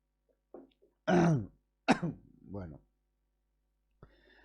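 Several close coughs and a throat clearing in quick succession, with short quiet gaps, followed by a faint rustle.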